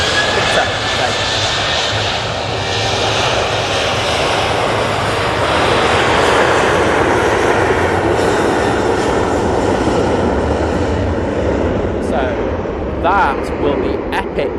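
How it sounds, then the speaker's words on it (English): A Qatar Airways jet taxis at Manchester Airport, its engines a steady, loud broadband roar throughout, with people talking over the noise. "Looks like the Qatar's going to be coming down Victor Alpha because it's turning right"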